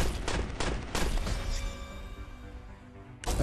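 Autocannon towers fire in the Bug Heroes tower-defence game, with rapid bursts of loud, punchy shots in quick succession, a short pause, then another burst at the end.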